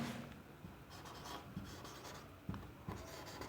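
Pen writing by hand on paper, close and quiet, a steady scratchy stroke broken by a few small taps as the pen lifts and lands, heard alone.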